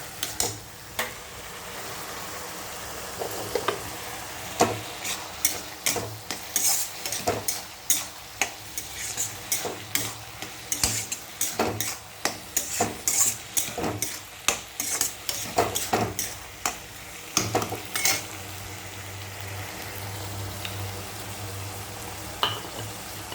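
Bottle gourd frying with salt and turmeric in a pan, a steady sizzle under repeated sharp scrapes and clacks of a spatula stirring against the metal, close and fairly busy throughout.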